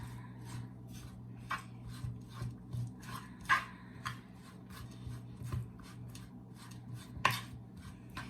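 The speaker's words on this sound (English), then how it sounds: "Mix everything up, stir it all together." A spoon scrapes and rubs through corned beef hash made with leftovers in a pan, a string of short rasping strokes at an irregular, unhurried rhythm, close and fairly quiet.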